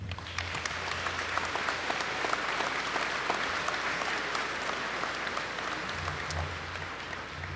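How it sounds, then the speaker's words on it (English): Steady applause from a crowd at a high school graduation ceremony, dense, even clapping filling the hall continuously with no voices over it. "I think they deserve a round of applause."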